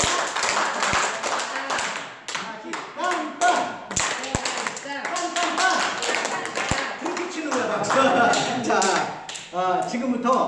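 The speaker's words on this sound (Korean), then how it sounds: "축구했었는데 그때 박수를 치는 게 있더라고요" A church gathering claps in sharp, rhythmic patterns modeled on the 2002 World Cup cheer, done as health clapping. Bursts of clapping come in quick sequences, mixed with someone talking over and between them.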